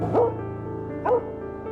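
Dog in a forest barking at a black creature lying on the ground, two short sharp barks about a second apart, close and clear over a quiet background.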